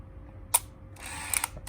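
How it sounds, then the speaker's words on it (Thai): A Pentax Pino 35M film camera gives a single crisp shutter click with flash off, followed by a brief whirring film-advance wind, close up and isolated. "เรามาดูกันที่การลั่นชัด ลั่นชัตเตอร์นะครับ"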